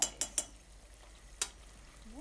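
Spoon scraping a pan as cumin, coriander and chili powder are mixed into a Sylheti baim fish curry with radish, a few quick scrapes near the start and one later, over a faint background.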